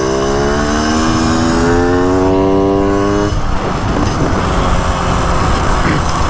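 A trial motorcycle ridden in New Zealand gives a loud, steady engine drone that drops partway through into a rougher, noisier rumble.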